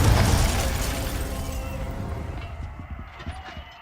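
A fiery blast from the Confringo spell in Hogwarts Legacy bursts loudly up front, then crackles and rumbles as the debris settles over a few seconds.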